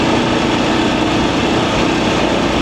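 A VOGE DSX 900 motorcycle engine runs steadily in third gear at about 2,500 rpm, a loud, continuous broadband drone with no talk over it.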